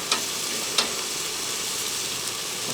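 Steak fries in a pan with a steady, loud sizzling hiss and two brief sharp pops near the start.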